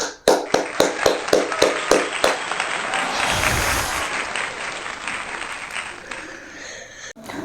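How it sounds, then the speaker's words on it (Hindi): Guests are welcomed with applause on a homemade game-show vlog; a few loud, evenly spaced claps ring out first, then a fuller burst of group clapping carries on and trails off. "तो इनका तालियों से स्वागत किया जाए।"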